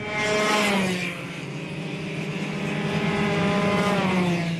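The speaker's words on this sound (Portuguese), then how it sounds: "Este é o kart de Manuel Soares" A racing kart engine in Manuel Soares's kart at a race, roaring loud and close with a rising whine, easing briefly then building again as it drives on.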